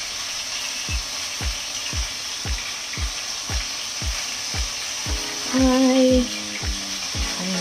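An egg sizzles in a frying pan with a steady bright crackle, while a regular series of low thumps beats underneath and a brief tonal squeal rises near the end.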